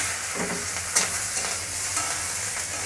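Panch phoron and green chillies fry in hot oil, a loud, close, continuous sizzle with crackling spatter and a sharp pop near the first second, with no voices.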